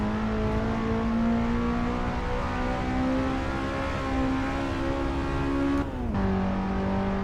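A Toyota Sera TRD engine in Assetto Corsa climbs steadily in revs on a Pikes Peak run, a loud continuous whine that dips abruptly near the end as the gear changes, with no talking.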